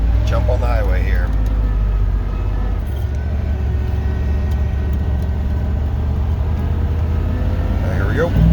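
A 1988 truck with an EFI 460 engine shifts into second and accelerates onto a highway, its deep engine drone and road noise continuous and close, with someone talking over it.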